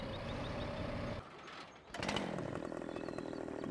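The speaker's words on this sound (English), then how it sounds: "Make some money with the chainsaw just that way" A chainsaw in the Farming Simulator game drones steadily while cutting trees, drops away briefly for a moment, then revs back up loud and continuous.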